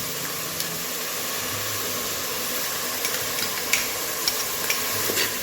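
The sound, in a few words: garlic-ginger paste sizzling in pan with spices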